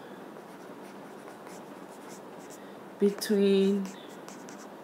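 Pen or marker scratching across a surface while working out slopes in an algebra lesson, a faint steady scraping throughout with a brief spoken word near the end.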